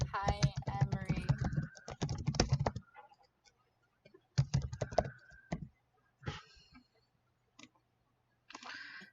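A cat steps across a computer keyboard, producing bursts of rapid key clicks and taps close up, separated by pauses of near silence.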